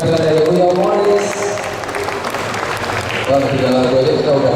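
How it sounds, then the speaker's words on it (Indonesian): Steady applause from an audience, dense and sustained, with a crowd murmuring underneath and a brief swell near the end. "Kita berikan tepuk tangan sekali lagi untuk penampilan dari Uya Morris."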